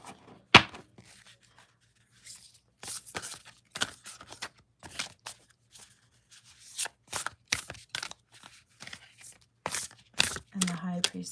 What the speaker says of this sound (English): this one shuffles really good